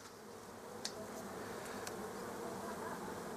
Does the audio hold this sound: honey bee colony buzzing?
yes